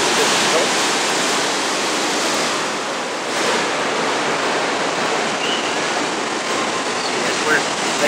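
Ocean waves breaking near Huntington Beach Pier on the California coast, a continuous loud roar of surf and wind with no distinct pauses.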